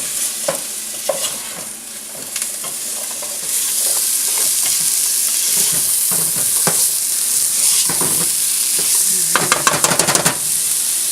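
Seasoned turkey pieces brown in a hot pan with a steady loud sizzle. Repeated scrapes and clicks from stirring and turning the meat sound over the frying hiss.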